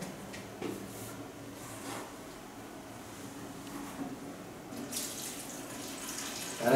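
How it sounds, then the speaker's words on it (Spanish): Water poured into a dough mixture for a large tricolor bread, a quiet, steady trickling flow that swells into a brighter, louder splash near the end. "Échale 1/4 de agua"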